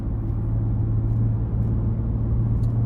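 A 2023 Ford F-150 Raptor with its exhaust in Baja mode gives off a steady, deep rumble, a continuous near drone with no distinct revs and no talk.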